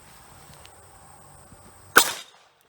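A single sharp .32 ACP pistol shot strikes a Soviet SSh-68 steel helmet at about five yards, a loud crack with a short metallic ring that fades quickly against a quiet outdoor background.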